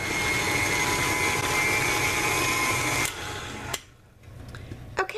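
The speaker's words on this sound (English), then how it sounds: "I am just using my flat beater on my KitchenAid. And I just let this mix together for a little while until it is completely combined" A KitchenAid stand mixer fitted with a flat beater whirs steadily and loud while blending cream cheese and powdered sugar, then the motor cuts off abruptly, leaving a quiet room with a few faint clicks.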